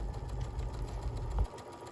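A sewing machine stitching a buttonhole with a buttonhole foot gives a short, steady, low mechanical whir, fairly quiet and close, with no talking.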